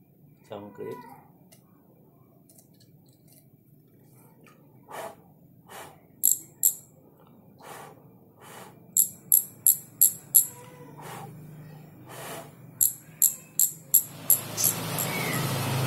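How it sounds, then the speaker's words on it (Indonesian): Sharp ratcheting clicks from a single-speed fixie bicycle freewheel come in short, evenly spaced bursts against quiet, then a rushing noise swells at the end. "Itu adalah suara dari single speed freewheel ini."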